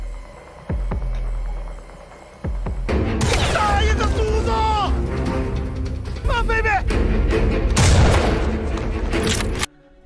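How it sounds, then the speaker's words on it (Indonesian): Several loud, sharp gunshots ring out in bursts, mixed with booming explosions and a low rumbling hum throughout. "Setelah beberapa tembakan dilepaskan"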